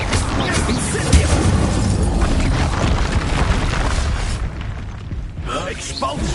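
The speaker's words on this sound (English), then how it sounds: "Incendio." The Incendio fire spell is cast in the Hogwarts Legacy video game on PS5, a loud, dense roaring burst of fiery noise that fills the whole clip with crackle and rumble.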